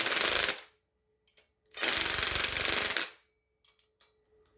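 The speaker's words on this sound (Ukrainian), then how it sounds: "беремо винтовір і фіксуємо" A power screwdriver fastening nuts onto a Bismat mounting profile, two loud buzzing bursts of under a second and over a second, separated by a short pause, with faint clicks and handling afterward.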